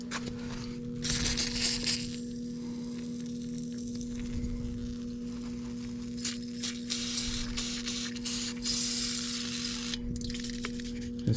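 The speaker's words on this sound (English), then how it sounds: "let's spray some more on there" An aerosol can of lubricant sprays onto a car door of a 1955 Plymouth Savoy in two hissing bursts, one early and one near the end, over a steady low electrical hum.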